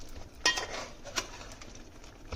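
A lid set onto a metal cooking pot of simmering crab curry, giving a sharp clink followed by a lighter second tap, close and fairly quiet, with no talking.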